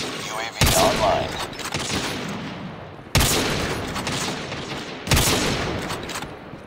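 Gunfire in a first-person shooter video game, with three loud, sharp bursts of shots, each trailing into a noisy rattling tail. Faint game voices sit underneath.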